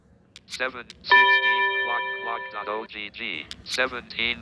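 A phone's timer sounds a sustained electronic bell tone for about two seconds, with someone speaking before, during and after it.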